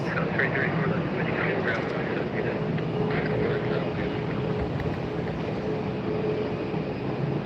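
Southwest Airlines Boeing 737 MAX 8 jet at Tampa airport on a very windy day, a steady broad engine roar holding level throughout, with a person talking over it.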